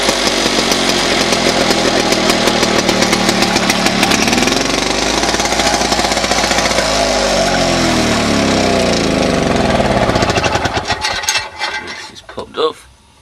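Victa Power Torque lawn mower engine roaring loudly at full throttle with a steady, rattling drone, then sputtering and winding down to a stop near the end.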